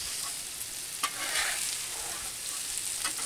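Bacon, mushrooms and onions sizzle on a Blackstone griddle at medium heat, a dense, even hiss heard up close with a couple of soft scrapes from a spatula and no voices.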